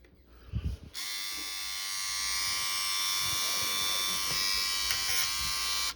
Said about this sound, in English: So let's try to eject it and see what happens.